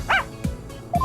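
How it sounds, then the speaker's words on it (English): A dog in the courtroom video game Phoenix Wright: Ace Attorney – Spirit of Justice gives several short, loud yips and barks in quick succession, close up and alone. "But this is my dog, Shadow!"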